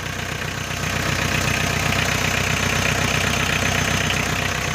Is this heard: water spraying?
no